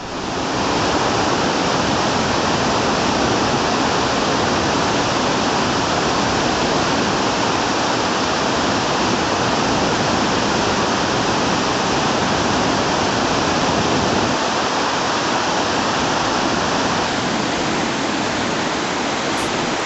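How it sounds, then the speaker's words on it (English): A rushing mountain river on the trek to Gomukh, the source of the Ganga, roaring as a loud, dense and unbroken wash of water close by with no voices. "Now there is another river to cross."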